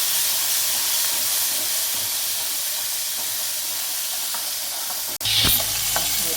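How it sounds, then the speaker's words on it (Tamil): Steady loud sizzling and crackling of turkey berries frying in hot oil, with a brief stirring clatter near the end. "இப்போ சுண்டைக்காயை ஆட் பண்ணுறோம். இது நல்லா அப்படியே வறுத்து வரணும்."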